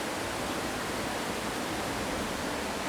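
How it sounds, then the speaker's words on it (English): A waterfall at the base of a mountain in Lombok, Indonesia, roars as a steady, dense wash of rushing water, close and constant with no voices. "If you hike in, this will be the first waterfall you'll see"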